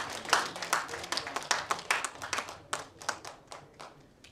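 A small audience claps for a silver-prize winner at a folk song contest awards ceremony, with brisk, uneven, fairly close hand claps that thin out and fade over a few seconds.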